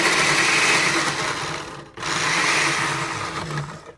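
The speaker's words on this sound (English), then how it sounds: "I like the blender because it makes it real fine and no pieces." A blender grinds onion for lamb and bulgur tartare, a loud continuous whirring roar that stops briefly halfway and then starts again.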